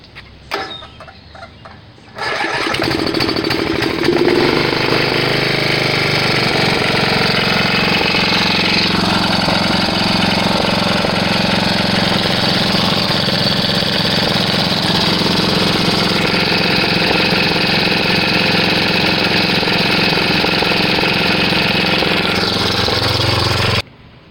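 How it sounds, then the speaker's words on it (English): Homemade DIY air compressor starting up after a brief quiet moment, then running loud and steady with a harsh rattling, hammering drone for about twenty seconds before cutting off abruptly. "Now we're going to go ahead and fire it up and see how much pressure it builds."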